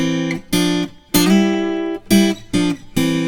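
Intro phrases on acoustic guitar, hybrid picked: five or six clear plucked chord phrases, separated by short gaps and ringing out between them, played alone and close with no talking.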